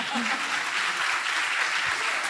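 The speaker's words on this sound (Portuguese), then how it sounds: "Uma salva de palmas pro barbudo." Audience applause in a talk-show or live event hall, dense continuous clapping from a crowd, loud and even, with a voice briefly heard under it.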